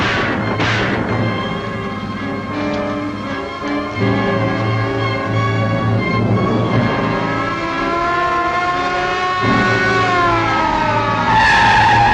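A 1950s car skids on a highway after its tires are shot out, a long loud smear of tire squeal and engine under continuous sustained tones, with a sharper squeal flaring near the end.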